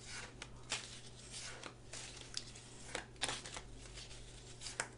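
Tarot cards being shuffled by hand, soft papery riffles and slides repeating in irregular bursts, faint and close.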